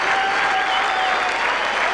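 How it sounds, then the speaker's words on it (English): A cricket crowd at a Test match against Pakistan applauds Mark Taylor reaching 300, a steady wash of clapping from many spectators throughout, loud and unbroken with no talk. "some fans who have travelled around the world stand and applaud"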